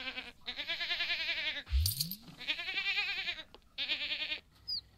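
A mini goat in the Sims 4 video game bleats in a string of loud, wavering cries with short gaps, interrupted by a quick coin-like jingle and a rising whoosh.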